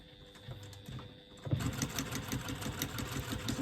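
Sewing machine stitching a quarter-inch seam on fabric for a retro clutch slip pocket, a faint soft hum that starts up partway and settles into a steady, rapid mechanical chatter.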